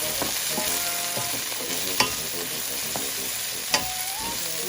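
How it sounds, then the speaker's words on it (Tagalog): Potato and sweet potato fry in a pan with a steady close sizzle while a utensil stirs and scrapes through them, with a couple of sharp clinks against the pan. "So let the potato and sweet potato cook. Now we have to stir it again."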